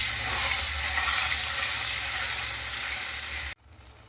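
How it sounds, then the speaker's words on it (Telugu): Mint, coriander and green chilli paste sizzles loudly and steadily in hot oil, a dense continuous hiss that cuts off abruptly near the end. "ముందుగా పేస్ట్ చేసుకున్న పుదీనా, కొత్తిమీర, పచ్చిమిరపకాయలు నూనెలో వేసుకోవాలి."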